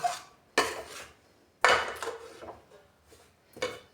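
A spatula scrapes and stirs gram flour (besan) roasting in a heavy-bottomed kadai, in three short bursts of dry metallic scraping separated by quiet pauses.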